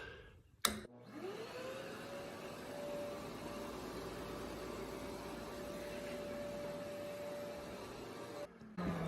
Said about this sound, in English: the vacuum is so loud that you can't hear the fan